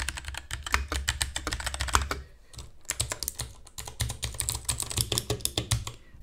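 Rapid typing on a Royal Kludge RK84 mechanical keyboard with brown and blue switches, dense clicky keystrokes in quick bursts with a brief pause midway, close and alone.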